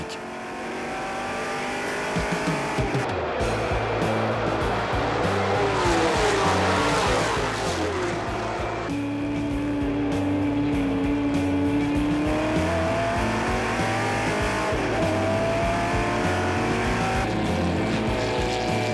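Classic race cars from 1962 to 1965, mostly Ferraris and Ford GT40s, at the Le Mans Classic roar past loudly with engines revving and shifting, tires squealing and several cars blending into a sustained, close racing din.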